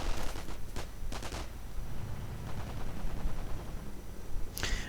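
Gunfire and sniper shots in a World War II real-time strategy game battle, sharp scattered shots and short bursts over a rumbling battlefield backdrop, with a crack near the end.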